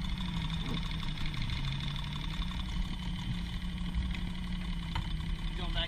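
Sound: engine idling low without stalling

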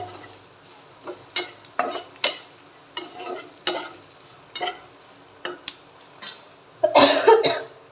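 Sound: fried corn being stir-fried in oil on medium flame

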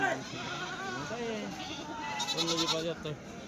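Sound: goats bleating at Kadiri livestock market

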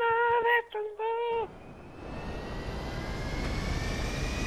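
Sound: jet aircraft engine in GTA V video game

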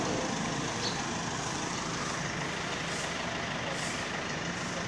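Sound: commuter bus or car passing

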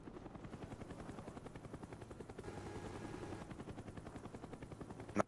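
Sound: helicopter killstreak in video game Call of Duty Black Ops

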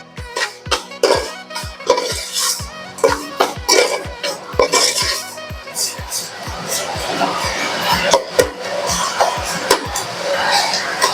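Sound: frying onions in a pan for chicken curry

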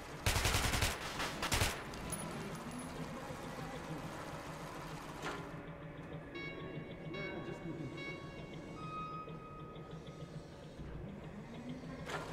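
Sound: gunfire at a shooting range in video game Metro 2033 Redux

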